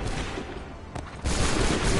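Musket volley gunfire in Assassin's Creed III Remastered on PS5, a loud burst of massed shots that jumps up partway through and rumbles on to the end, with no talk over it.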